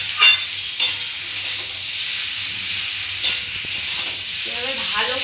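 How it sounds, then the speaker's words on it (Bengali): Mashed potatoes being stirred and fried in a kadai, a steady broadband sizzle with scraping stir strokes and a few sharper clanks of the spoon against the pan, close and continuous. "এভাবে ভালো করে নাড়িয়ে চাড়িয়ে"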